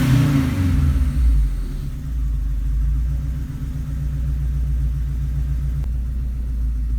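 Subaru EA82T turbocharged engine revs up smoothly, then falls back on its own and settles into a steady, close, loud idle rumble with no talking.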